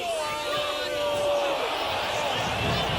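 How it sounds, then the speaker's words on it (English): A rugby league crowd at a Castleford v Leeds match crying out from the far side of the ground, a sustained roar with a whistle-like tone, heard under a commentator's voice. "Cries from that crowd on the far side"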